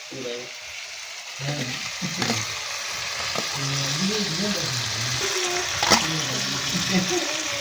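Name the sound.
tomatoes and salt frying in a pan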